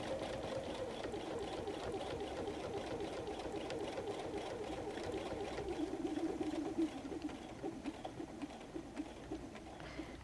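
A sewing machine stitches fabric for a messenger bag, running steadily with a continuous rapid mechanical whir throughout and a few brief pauses near the end.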